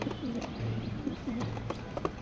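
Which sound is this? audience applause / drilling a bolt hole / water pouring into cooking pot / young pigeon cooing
young pigeon cooing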